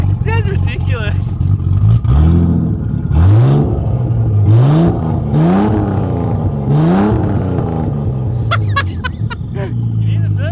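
A turbocharged SOHC Ford Fairlane engine is revved hard several times in quick succession, each rise climbing and falling with a raspy roar, with a high turbo whistle and background voices.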